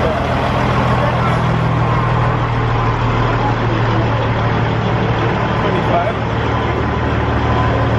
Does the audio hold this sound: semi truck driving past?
yes